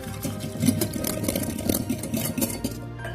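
Sauce powder being stirred into water in a bowl, close clinks and scrapes of a utensil against the dish in quick irregular strokes for a few seconds, with no voices.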